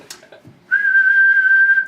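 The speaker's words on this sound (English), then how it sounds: "So I'd sit there and whistle at it and play with it" A person whistles a long, steady, clear single note at an oscilloscope sensor after a few faint shuffling sounds, close and loud, with no speech.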